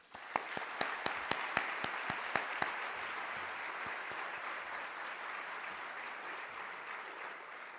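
An audience at an indoor awards event bursts into applause that starts with a few loud, distinct claps and then settles into a sustained, even wash of clapping from many hands.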